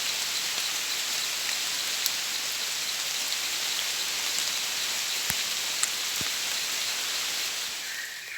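Rain pours down steadily outdoors with a dense, even hiss, and a few sharper drips stand out now and then.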